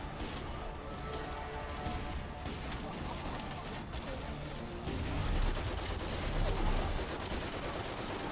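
A battle sound effect for a 1914 battle at Soizy-aux-Bois, with dense gunfire and rattling machine-gun bursts forming a loud, continuous barrage that swells toward the end, with a narrating voice faintly over it.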